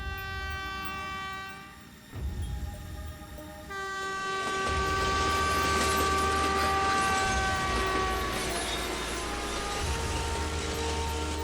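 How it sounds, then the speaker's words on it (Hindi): The Kaveri Express train passes close by, its loud horn blaring in sustained tones over the rumble and rattle of the rail cars, growing louder and steady as the train goes past. "कावेरी एक्सप्रेस पास हुई।"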